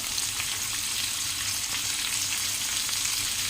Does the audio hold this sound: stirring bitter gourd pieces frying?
yes